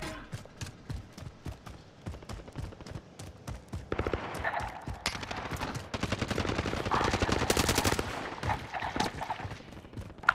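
Gunfire in the shooter game Warzone rattles in rapid bursts, with dense automatic fire swelling in the middle. Loud, sharp cracks come in quick succession, some nearer and some farther off.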